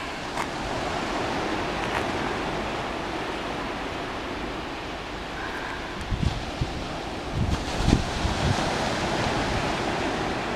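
Steady surf and wind wash over the seafront at Folkestone looking across the Channel, a continuous broadband roar with a few brief nearby knocks and rustles partway through; no one speaks.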